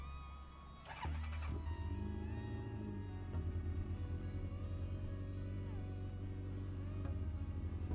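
A Suzuki GSX1400 motorcycle engine starts with a sharp burst, then settles into a steady close idle with a deep, even rumble that holds to the end.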